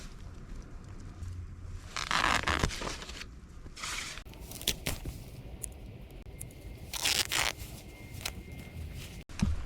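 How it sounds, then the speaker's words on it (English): Scissors snip and tear through a cotton t-shirt in several bursts of crisp, close cutting noises, separated by brief pauses. "cut up this t-shirt and make it into little pieces"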